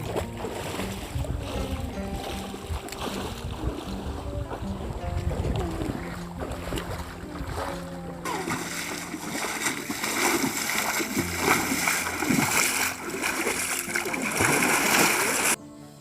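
Water splashes and churns continuously as people stir up and muddy a shallow stretch to catch fish with a traditional trap, loud and close, with the splashing growing busier toward the end.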